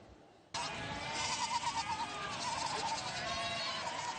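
A herd of goats in Mongolia bleats repeatedly after a sudden start, their wavering cries layered close together over steady outdoor background noise with no talking.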